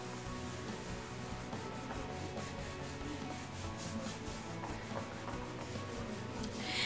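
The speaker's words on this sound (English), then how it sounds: "So that's why I'm rubbing." A hand rubs steadily over image transfer film pressed onto a surface, a close, continuous scratchy friction sound with rhythmic strokes and no talking.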